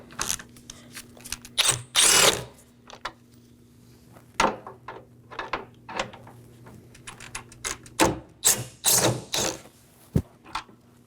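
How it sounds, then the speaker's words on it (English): Power tool backing out 7mm headlight bolts on a 2018-2024 Chevrolet Equinox, heard as a string of short whirring bursts of varying length, fairly close and clear with quiet pauses between them. "we're going to locate 3 7mm bolts, 2 on the top and 1 on the bottom. We'll go ahead and remove those now."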